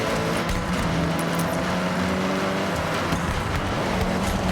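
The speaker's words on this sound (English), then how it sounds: "You can hear the engine has more power." Turbocharged car in Forza Horizon 6 on a rally-style drive in free roam: a loud, steady engine drone revs hard and close throughout, with no talk over it.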